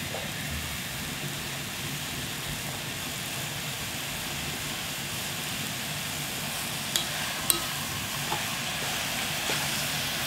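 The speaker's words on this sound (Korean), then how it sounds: "이게 들기름에 볶아줄 거예요." Radish being fried in perilla oil gives a steady, dense sizzle that holds evenly throughout, with a couple of faint clicks near the end and no voices.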